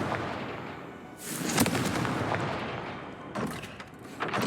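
A Confringo fire spell cast in the Hogwarts Legacy video game bursts out as loud crackling blasts, one near 1.2 seconds and another near 3.4 seconds, over a steady rumbling game soundscape.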